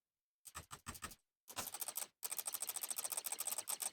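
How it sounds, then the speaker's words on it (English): Rapid, crisp computer mouse clicks in close-up, a few short separate bursts and then dense, fast runs of ticking clicks with no voice. "my clicks. The mouse clicks."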